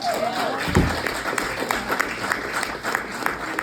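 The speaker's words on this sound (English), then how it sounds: "Give an applause." Scattered applause from a room of people, a patter of clapping that carries on steadily with some crowd murmur mixed in.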